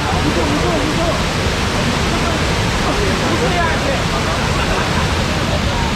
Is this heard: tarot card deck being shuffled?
no